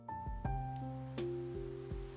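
Rain sound effect in an audio fairy tale, gentle drips landing one after another at an uneven pace with ringing, tonal tails like water drops falling into water, quiet and with no voices over it.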